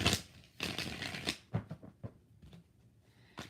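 Tarot cards being shuffled close by in a quiet room, a dense riffling burst at the start, a longer run of card noise, then a few scattered flicks and taps, with another short shuffle at the end.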